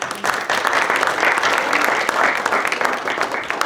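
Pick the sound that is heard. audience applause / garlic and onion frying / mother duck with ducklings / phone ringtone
audience applause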